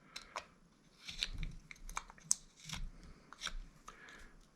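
A pocket knife shaves and trims a small carved wooden wizard figure, giving quiet, close, scattered crisp cuts and scrapes at an irregular pace with no talking.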